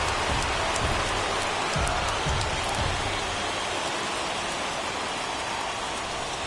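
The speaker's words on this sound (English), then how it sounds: "we've mentioned the conditions aren't ideal with the rain coming down" Rain comes down steadily during a baseball game in MLB The Show 21. It makes a dense, even hiss that stays the same throughout, with faint low rumbles underneath.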